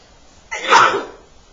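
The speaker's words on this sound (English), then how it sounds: "I'm going to sneeze." A single loud, close sneeze, a short sharp burst of breath that rises and fades within a second.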